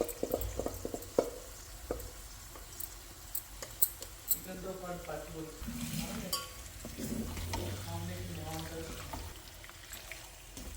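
Chicken pieces stirred in a pan for a home-style chicken curry, frying with a soft sizzle and scraping spoon strokes, clinks and knocks of utensils scattered throughout, with a voice briefly heard partway through.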